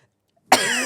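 A single sudden cough bursts out after near silence, close and loud, breaking into a short rough rasp.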